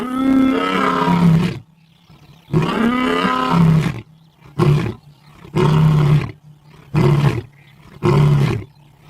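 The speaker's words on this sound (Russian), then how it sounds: "Лев рычит, он царь зверей." A lion roars in six separate bursts, the first two long and rumbling, the later ones shorter grunting roars, loud and close with silent gaps between them.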